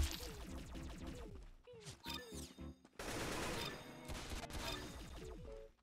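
Gunfire from the video game Arsenal, a rapid series of punchy synthetic shots and impacts in dense bursts with brief gaps, loud and up front in the game mix.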